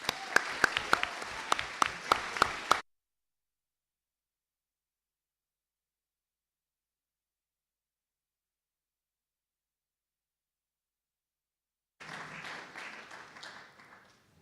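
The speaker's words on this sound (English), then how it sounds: "This is your applause." Applause from the audience at a Model UN opening ceremony: a short burst of clapping, a long silence, then a second softer round of applause near the end.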